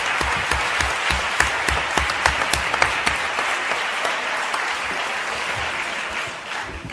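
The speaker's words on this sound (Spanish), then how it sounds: "us voldria demanar a tots vosaltres un fort aplaudiment per a aquestes persones" Audience applause for an association's members at a Catalan-speaking event, a dense steady wash of many hands clapping, fairly close, with a few sharper individual claps and no talking, easing slightly near the end.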